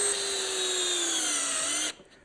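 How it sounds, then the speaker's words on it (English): A metal drill bit bores into wood, giving a steady high whine for about two seconds that cuts off abruptly as the drill stops. "It's a metal drill. Drilling wood is not ideal."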